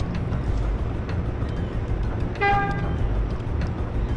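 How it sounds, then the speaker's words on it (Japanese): A car horn sounds in the video game Shenmue, set in Yokosuka: one short, bright toot of about half a second rising out of a steady, loud rumble of traffic and engine noise. "俺クラクションだけ立派にでかい。"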